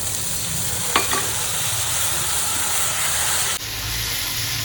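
Spice paste with dry chili powder sautés in a pan for a home-cooked Bengali dish, a steady close sizzle with a couple of brief scraping stirs near the start, continuing evenly with no talk.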